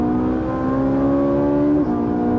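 A Ferrari 458 Italia V8 screams at high revs at the start of a lap on the Willow Springs streets, a loud, steady, rising wail with a sharp pitch drop near the end as it shifts.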